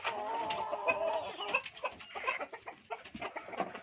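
Rhode Island chickens on a farm in La Union cluck and chatter in a steady, close flock, with overlapping short calls and scratchy rustling throughout.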